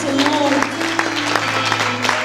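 Brief burst of clapping from a men's church service congregation, mixed with sustained tones and voices underneath.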